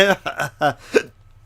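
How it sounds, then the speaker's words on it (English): A single sharp hiccup in a Minecraft let's play lands after a few bursts of nearby talking, then the voice stops and near-silence follows. "Oh, that was a bad hiccup."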